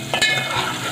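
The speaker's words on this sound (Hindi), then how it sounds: "शिमला मिर्च को हम थोड़ा सा फ्राई करेंगे" Capsicum (bell pepper) frying in a pan for pasta, a brief loud sizzle with a stirring scrape near the start, close and without speech.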